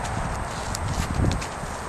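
Horse's hooves clip-clopping at a walk, a steady irregular thudding of footfalls close by over a rough outdoor background.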